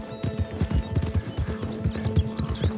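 A horse gallops in the video game Red Dead Redemption 2, its hooves striking in a fast, even clip-clop rhythm, close and clear, with no talk over it.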